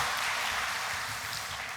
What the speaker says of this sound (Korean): 소이아 찬양대와 모든 분들을 위해서 박수로 한번 격려하고 감사하십시다